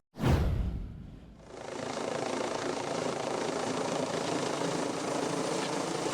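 Helicopter flying over an elementary school campus during a first responder training exercise, a loud initial whoosh as it passes close, then a steady rotor and engine drone.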